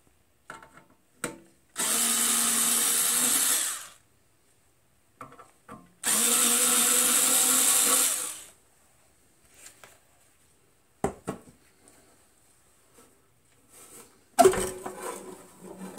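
A power screwdriver on a Heathkit T-3 signal tracer runs in two separate bursts of about two seconds each while backing out the rear screws, with clicks and handling noises in between and after.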